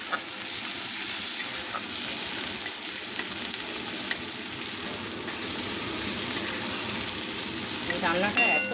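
Shrimp fry with spices, dried chillies and onion in a pan, giving a steady close sizzle with soft stirring scrapes throughout, and a faint voice near the end.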